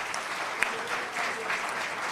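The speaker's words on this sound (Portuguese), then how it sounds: "hoje eu tenho que realmente pedir uma salva de palmas para o Reginaldo Júnior e a equipe" A studio audience or crew on a TV talk program breaks into steady applause for a presenter and the station team, a continuous mid-level patter of many hands with no voices over it.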